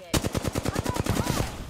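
Rapid automatic gunfire in the video game Apex Legends: a single burst of about a dozen evenly spaced, sharp, loud shots.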